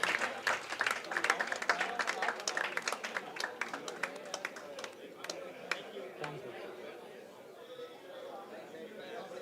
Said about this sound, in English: Let's give a big round of applause for the energy